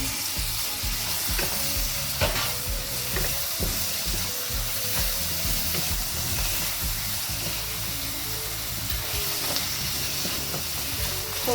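Onions and tomatoes fry and get stirred in hot oil for a Malvani chicken curry, a steady close sizzle with scraping spoon strokes throughout and no talking.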